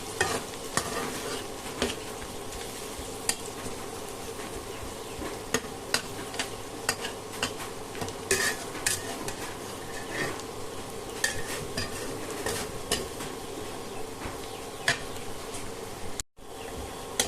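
Marinated mutton frying in a pan with browned onions, stirred steadily: a continuous close sizzle with frequent scraping spoon clicks throughout, no voices.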